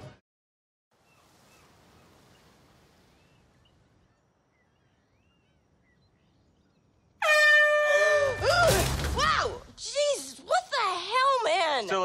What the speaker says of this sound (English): Was the air horn really necessary?